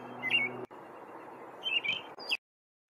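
A backyard bird sounds a few short, high alarm notes in two brief bursts, close by and fairly faint, against a steady low background hum.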